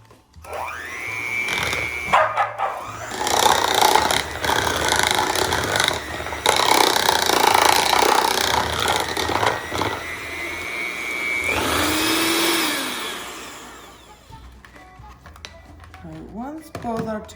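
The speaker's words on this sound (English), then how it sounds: "we're gonna start creaming the butter and the cream cheese together" An electric mixer creaming butter and cream cheese together for cinnamon rolls, a loud close whirring drone that changes pitch as the speed shifts, then winds down near the end, with a person talking over it.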